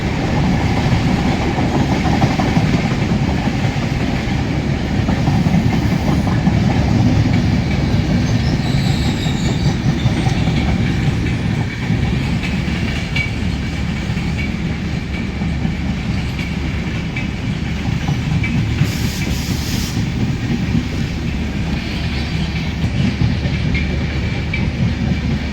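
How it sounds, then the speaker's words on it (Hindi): A train with a parcel van hauled by a WAG9 electric locomotive rumbles past close by, loud and continuous for the whole stretch, with wheel clatter and occasional squeal. "आ रही है मेरे ख्याल से पार्सल वैन WAG9 के साथ"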